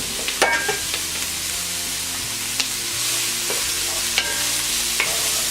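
Scallion and a few sprigs of thyme cooking in a thin coat of oil in a pan, with a steady soft sizzle and occasional stirring clinks and scrapes, no talk.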